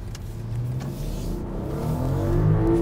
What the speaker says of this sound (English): It's got a 3-liter turbocharged inline six